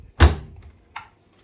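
The door of a Bosch Serie 4 washing machine shuts with a single solid thunk, followed a moment later by a lighter click as it latches; close and quiet otherwise, no talk.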